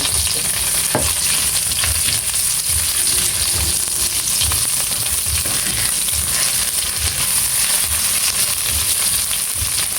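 Onion sautéing in a hot pan for ginisang monggo, a steady loud frying sizzle with occasional stirring clinks and scrapes running throughout, no voices.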